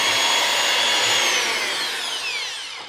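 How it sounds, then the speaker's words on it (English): An electric hand mixer whips sourdough cinnamon roll icing into a soft, fluffy topping, a loud steady high-pitched motor whir running continuously and easing slightly toward the end, with no talking. "Pulling my mixer back out, I'm gonna mix this up to a nice fluffy,"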